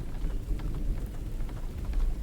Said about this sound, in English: I'm also glad it's raining